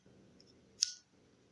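A lighter sparks once to light a cigarette, a single sharp click with a brief hiss, close up against a low background murmur.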